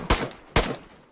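Two quick cracks of automatic weapon fire in the video game DayZ, sharp loud bursts about half a second apart with brief decaying tails.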